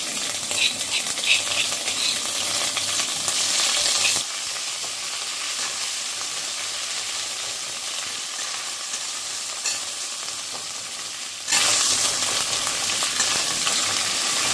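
Crushed ginger and green chili frying in hot oil with fennel seeds and cumin, a loud steady sizzle and hiss close up that dips in the middle and flares back up near the end.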